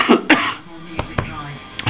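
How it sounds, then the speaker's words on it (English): A few short, sharp coughs close up, separated by brief pauses, with a throaty clearing quality. "Still got an annoying cough"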